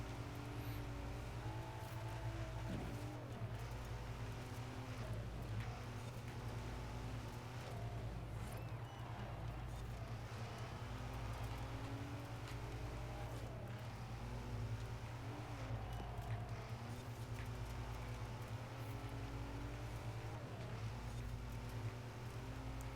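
Video game car engine drones steadily, with a low rumbling hum and shifting tones as it drives over changing road surfaces, continuous and fairly loud throughout.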